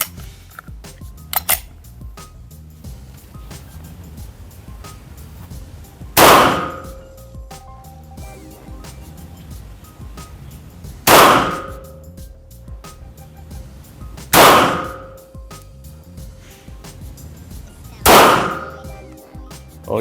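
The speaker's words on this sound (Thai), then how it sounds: "เปลี่ยนแมกกาซีน ยิงต่อเลย ต่อไปขอแบบต่อเนื่อง" A Glock 17 Gen 5 9mm pistol fires on a range, with a few sharp, loud shots spaced several seconds apart, each ringing briefly, amid quiet background noise and no talk.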